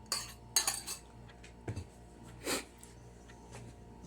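An egg is stirred into a full mixing bowl with a utensil, giving a few scattered clinks and scrapes against the bowl, close but quiet, no voices.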